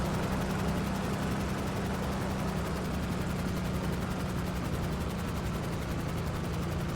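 Steady, loud rotor-like drone with a low hum runs throughout, no breaks, like a helicopter hovering nearby in Grand Theft Auto V Online.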